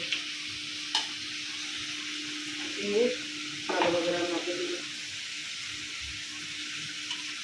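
Fish goes into a hot pan and fries, a soft sizzle rising after a couple of faint clicks, with stirring scrapes and a low steady background hum, fairly quiet and close.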